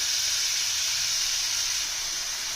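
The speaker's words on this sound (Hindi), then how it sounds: "उसके बाद हम चॉप ऑनियन डाल रहे हैं स्लो" Chopped onion dropped into hot oil in a pan for Sindhi dum aloo, giving a steady, loud, bright sizzle and hiss that holds without a break.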